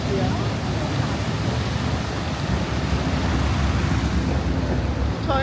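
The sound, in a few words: waves on the water in Venice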